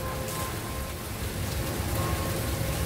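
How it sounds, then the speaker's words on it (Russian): Heavy rain pours steadily over Istanbul, a dense, continuous hiss and patter of drops on surfaces that stays loud and even throughout, swelling slightly toward the end, with no voices. "такой дождик"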